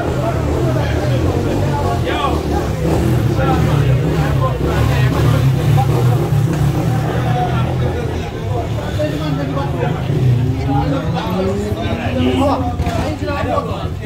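Toyota Corolla with a swapped 3SGTE turbo engine running at an Ironshore street gathering, a steady loud engine drone with rising revs under crowd chatter and voices nearby.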